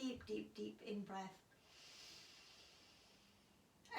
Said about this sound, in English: Just take a few really deep breaths.